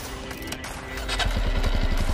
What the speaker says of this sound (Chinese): 本田猴子125。